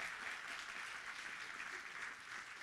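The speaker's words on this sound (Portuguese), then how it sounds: "recebeu com aplauso, o Mateus Milato de Luna." A church congregation applauds in a steady, continuous wash of clapping, heard at a moderate distance and fairly quiet, with no speech over it.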